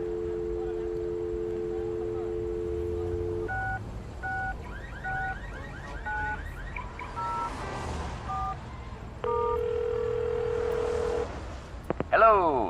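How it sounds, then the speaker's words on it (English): Telephone tones in the Larry Reloaded (2013) video game: a steady dial tone, then a run of short keypad dialing beeps at varied pitches, followed by a longer ringing tone with background game sound. "You pick up the phone, and to your delight, you get a dial tone"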